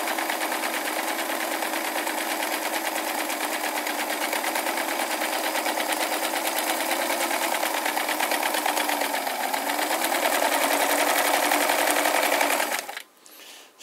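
A Bernina Record 530 sewing machine stitches a half moon pattern with a smooth, even, fast whirring hum that runs steadily for about twelve seconds, then stops abruptly into near quiet.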